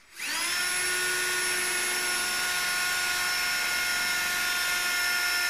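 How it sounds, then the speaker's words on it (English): A steady, high-pitched power drill whine drilling rivet holes in aluminium sheet starts abruptly and holds at constant speed, loud and close, with no talking. "So I'm going to go ahead now and start drilling and putting the rivets in."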